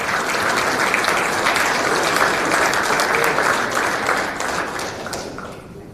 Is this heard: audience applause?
yes